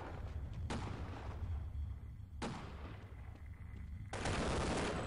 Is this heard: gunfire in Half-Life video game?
yes